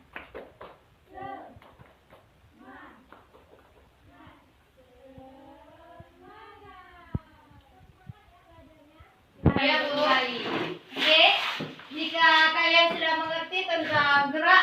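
Students in a classroom stand for a rhythmic spirit clap: after some quiet talk, a sudden loud burst of patterned group clapping mixed with chanting voices fills the last few seconds.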